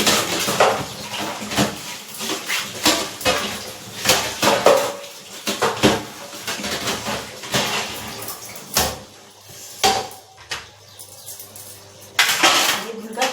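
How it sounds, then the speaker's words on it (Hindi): Dishes, pots and utensils being washed by hand in a home kitchen: close, irregular clatter and clinks of metal and ceramic knocking together, with water and handling noises throughout. "गाइस मैं बर्तन धो लूँ अपने"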